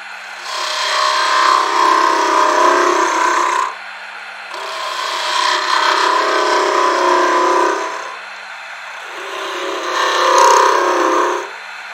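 A wooden ornament spins on a woodturning lathe while a tool hollows it out, giving a loud rasping scrape in three long passes separated by short pauses, with the motor hum underneath.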